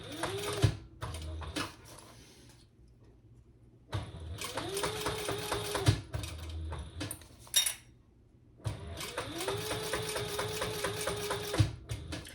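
Sewing machine stitching a 1/4 inch seam on fold over elastic for a Brix crossbody bag, running in three bursts of rapid whirring with pauses and small clicks between them, close and fairly quiet.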